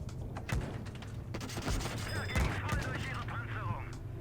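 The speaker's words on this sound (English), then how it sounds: "That shot right there is the only damage that I have done in the entire game" Tank cannon fire and battle noise in the game World of Tanks Blitz, played with a steering wheel: dense overlapping booms and rattling gunfire, loud and continuous, with a voice faintly mixed in.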